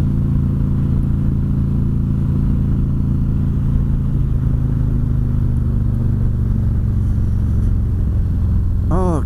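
A motorcycle engine rumbles steadily while riding, its low drone constant and fairly loud, shifting slightly in pitch partway through, with wind noise and no speech.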